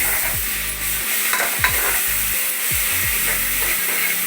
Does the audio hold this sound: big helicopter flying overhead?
no